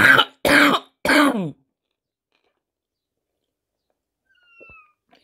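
A woman eating okroshka coughs three times in quick succession, close and loud, then near-silence follows with a faint brief sound at the end.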